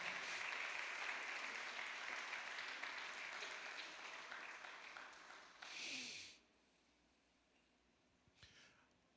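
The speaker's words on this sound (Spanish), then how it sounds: "Dale un fuerte aplauso al Señor" Church congregation applauding loudly, a sustained wash of clapping that swells, then cuts off, followed by quiet and a brief short burst of noise.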